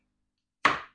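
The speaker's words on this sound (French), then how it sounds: "Une courgette, vous coupez des morceaux d'environ 1 cm." A single sharp knife chop through zucchini on a cutting board, cutting it into roughly 1 cm pieces; one close, crisp thud after a silent pause, then a short fading ring.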